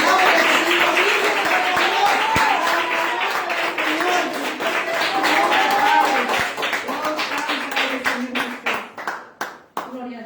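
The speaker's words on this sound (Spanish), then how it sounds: "El aplauso de Cristo vive." A church congregation applauds with dense, sustained clapping under raised voices. Toward the end the clapping thins into louder, separate rhythmic claps.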